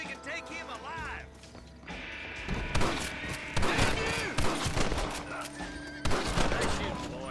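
A shootout in the Red Dead Redemption video game brings a fast series of sharp gunshots and heavy bangs, some close and some overlapping, mixed with clanking metal, music and bits of game sound.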